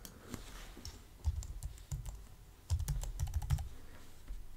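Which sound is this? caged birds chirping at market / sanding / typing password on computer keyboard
typing password on computer keyboard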